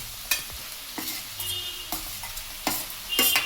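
Onions with turmeric frying in a pan for a puri curry, a quiet close sizzle broken by several sharp stirring scrapes and clicks at irregular intervals, with no voices.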